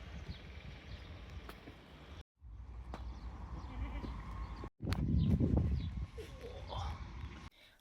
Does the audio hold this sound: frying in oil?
no